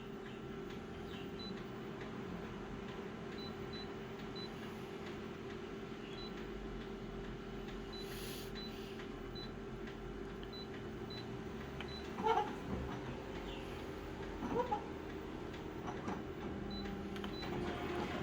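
A discontinued-parts photocopier running with a steady low mechanical hum and faint whirring, quiet and continuous, with a couple of brief clicks and clunks partway through.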